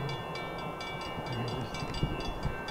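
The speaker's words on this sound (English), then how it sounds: "They know there's a train coming." A train draws near a level crossing with the gates down, a faint, steady low rumble of rail traffic with some distant higher tones, heard from a distance.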